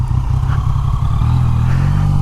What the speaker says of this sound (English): I see a motorcycle.